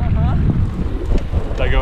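Strong wind buffeting an outdoor microphone during a May Day ride, a loud, steady rumbling roar with brief tonal bits over it.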